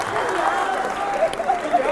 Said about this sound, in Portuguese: mais palmas aqui, cara.